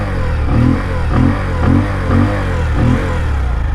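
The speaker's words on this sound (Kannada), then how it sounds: "ನಾನೀಗ ಸೆಲ್ಫ್ ಸ್ಟಾರ್ಟ್ ಮಾಡ್ತೀನಿ. ಎಕ್ಸಾಸ್ಟ್ ನೋಟ್ ಈ ಥರ ಕೇಳಿಸುತ್ತೆ" A 2022 Bajaj CT 125X motorcycle idles after a self start, its exhaust giving a loud, close, steady low rumble that swells in regular pulses about twice a second.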